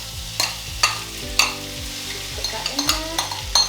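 Crushed sweetcorn sizzles steadily in a pan while a spoon scrapes and stirs in repeated strokes, with a brief spoken remark over it.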